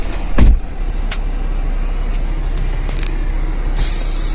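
A semi truck idles and eases backward under a trailer to close the fifth wheel, giving a steady engine drone with a short heavy thump near the start and a brief hiss of air toward the end.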